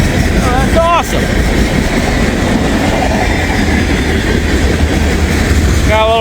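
A freight train with foreign-power and heritage locomotives passes close and loud, with a constant heavy rumble of wheels and brief high squeals near the start and end.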